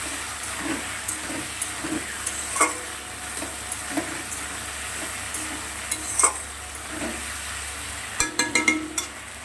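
Potatoes, onion and tomato fry together in leftover oil with a salted, crackling sizzle, punctuated by intermittent scraping stirs and a brief cluster of sharper clatters near the end.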